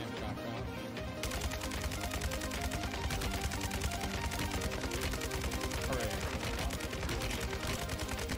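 Gunfire in a shooter video game comes as a dense, continuous stream of rapid shots with no pause, steady and fairly quiet throughout.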